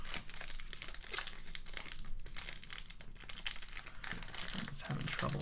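A 2021 Panini Prizm Draft Pick trading card pack wrapper is crinkled and torn open close up, with continuous rustling and tearing of foil plastic while a person talks over it.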